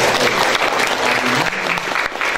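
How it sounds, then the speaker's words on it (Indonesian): Audience applause at an indoor discussion session, a loud, steady sustained clapping from a crowd that fills the whole moment. "Jadi sekali lagi kita berikan aplaus yang meriah."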